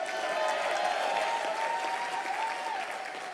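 Sustained audience applause fills a convention hall at a Youngevity live event, a dense steady wash of clapping at even loudness for the whole stretch with no voices over it.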